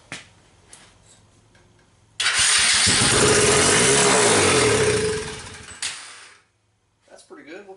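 A Chinese four-wheeler ATV that had been failing to run cranks and starts, then runs loud and near with a rough, unsteady idle for a few seconds before cutting out, with brief talk before and after.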